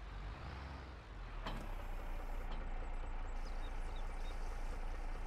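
A tractor engine idles in Farming Simulator, a steady low rumble with a brief hiss and faint high beeps partway through.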